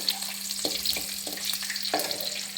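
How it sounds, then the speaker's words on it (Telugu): Thinly sliced onions fry in a pan, a quiet continuous sizzle punctuated by several sharp stirring clinks and scrapes of a spoon against the pan. "ఎర్రగడ్డలు కట్ చేసి పెట్టుకున్న సన్న ముక్కలు ఫ్రై చేసుకోవాలి."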